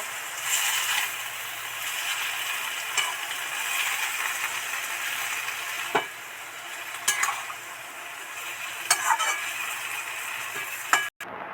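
Kalmi greens labra being stirred with a little added water in a pan, giving a steady soft wet sizzle and scraping with occasional sharp clicks of the spoon against the pan, no talk.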